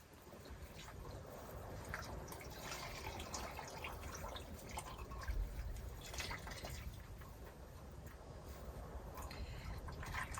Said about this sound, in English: The water's pretty dirty. And I'm going to disperse it over here.